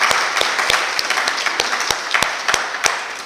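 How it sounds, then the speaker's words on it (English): An audience at a presentation applauds steadily, many hands clapping together with a few sharp, distinct claps standing out; fairly loud and close, with no talking. "let's give Gary a round of applause"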